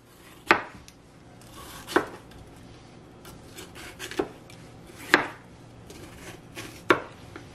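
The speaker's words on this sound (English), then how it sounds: "But this is how I wanna cut this pepper." A knife chops through a red pepper on a cutting board with five distinct crisp cuts at uneven intervals, close and fairly loud, with quiet rubbing between strokes.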